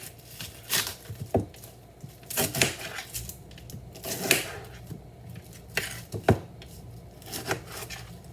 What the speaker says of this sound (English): Cut this onion up.